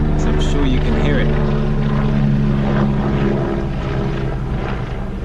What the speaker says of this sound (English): we have a helicopter flying over making lots of noise